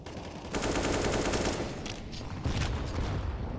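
Sustained rapid gunfire in a professional CS:GO match on the Mirage map, with several overlapping automatic bursts, loud and steady, a brief lull, then more shots.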